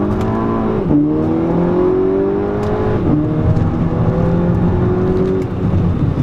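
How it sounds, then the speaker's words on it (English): An APR-tuned 2011 Volkswagen GTI with a six-speed automatic accelerating hard through the gears, engine note climbing and dropping at each shift with brief exhaust pops, loud and close with no talking. "So definitely hearing this car's exhaust pop like that when you get on it. Every time it shifts, just pop, pop, pop"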